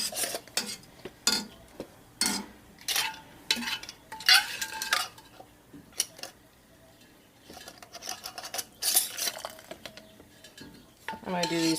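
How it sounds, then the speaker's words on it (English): Metal canning lids and screw rings clink and scrape against glass jars in a kitchen, a string of close, sharp taps and short rattles spread across the stretch with brief pauses between them. "I'm just going to start putting on our lids and our rings."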